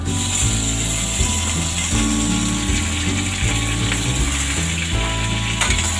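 Pork belly stir-frying in a pan for Thai five-spice stew, a loud steady sizzle with continuous rhythmic scraping and clattering of stirring throughout.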